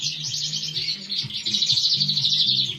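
Caged Norwich canary hybrids chirping, rapid high twittering song running almost continuously and fairly close, with low murmuring underneath.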